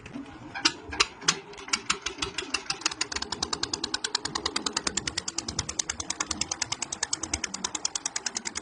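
A boat engine starts on the Chinai river: a few loud, spaced pops, then a quick, steady, rhythmic chugging that settles into a fast, even idle, heard alone at moderate distance.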